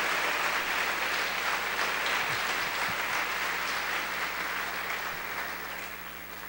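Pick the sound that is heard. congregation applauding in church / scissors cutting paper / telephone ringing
congregation applauding in church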